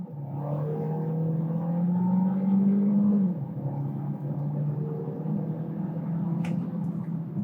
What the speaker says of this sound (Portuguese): vamos fazer a nossa largada estolada para ver como é que o carro se comporta